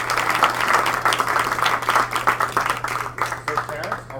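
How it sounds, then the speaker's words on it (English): An audience at a business talk gives a round of applause, with dense clapping close by for several seconds that thins into scattered claps toward the end, over a steady low electrical hum. "would you guys give John a round of applause for doing it?"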